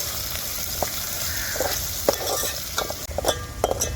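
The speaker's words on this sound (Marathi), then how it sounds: "आता कांदा ना लाल होऊसर मी परतून घेणार आहे" Chopped onions and green chillies sauté in a pan with a soft, constant sizzle, punctuated by light scraping and tapping from a spatula stirring now and then, growing busier toward the end.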